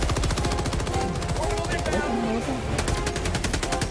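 Rapid rotary fire from a Gatling gun in a video game, a dense continuous mechanical rattle of shots running loud through the whole stretch, with other game effects layered underneath.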